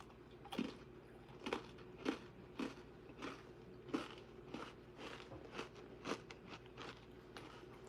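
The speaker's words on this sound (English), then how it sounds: "You hear that crunch?" Crisp crunches of teeth biting into a thin, snappy homemade sugar cookie, around a dozen sharp bites and chews spaced irregularly, close and fairly quiet with no talking.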